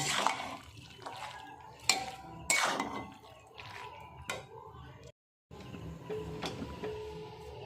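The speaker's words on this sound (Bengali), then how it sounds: "এবারে আমি পরিমাণ মতো জলটা দিয়ে দিচ্ছি" Water goes into a pan of ghugni made with goat fat and boiled peas, with splashing, dripping and sharp metal clinks against the pan, fairly quiet and close.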